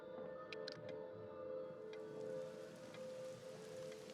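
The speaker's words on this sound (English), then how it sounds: "You look outside and it starts to rain." Rain ambience plays as a soft, steady patter of falling rain with faint ticks and a low hum underneath, quiet and continuous, without voices.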